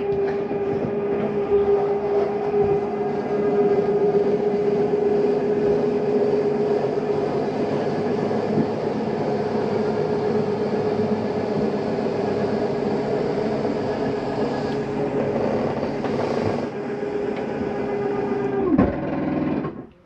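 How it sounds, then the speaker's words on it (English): An RV slide-out mechanism on a 2022 Jayco North Point 382FLRB fifth-wheel, running against its fully retracted stop, gives a steady loud motor whine and hum that holds for about nineteen seconds, then cuts off abruptly. "All that is the slide mechanism telling itself that it's already in, it doesn't need to come in any further."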